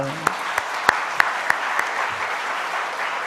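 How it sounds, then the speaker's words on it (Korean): A church congregation applauds during a Sunday worship service, a short burst of clapping that is fairly loud and dense, with a few sharper individual claps standing out before it fades into room murmur. "우리 박수 한번 합시다."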